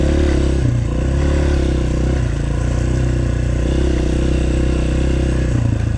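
Dirt bike on a power line trail during an enduro ride, its engine droning loud and steady with continuous revving and clatter throughout, close to the rider.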